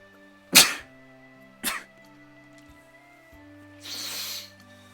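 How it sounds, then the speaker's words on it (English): One sharp, loud sneeze, followed by a smaller second burst and a softer breathy exhale a few seconds later, with faint background tones. "I gotta sneeze."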